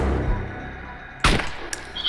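Gunfire in the survival game DayZ: one sharp loud shot cracks out suddenly, followed by a second shorter report moments later, breaking a quieter stretch of ambient game noise.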